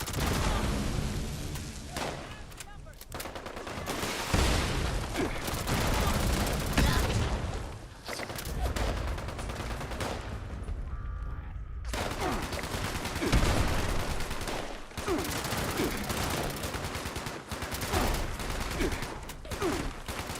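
Bursts of gunfire ring out in the Fallout 76 video game, repeated volleys and rapid shots throughout with brief lulls, while a player's voice comes and goes in the mix.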